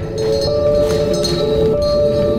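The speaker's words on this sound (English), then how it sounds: "that's the sound of the bell" A bell ringing in a forest at a campsite, with a sustained metallic, clinking ring over rumbling outdoor noise, fairly loud and steady for the whole moment.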